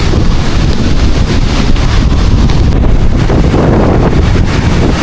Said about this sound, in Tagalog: Mas, ang laki ng alon. Ang lakas ng hangin.